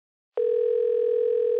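A hotel room telephone gives a steady, loud, unbroken dial tone that starts abruptly after a moment of silence and holds without change.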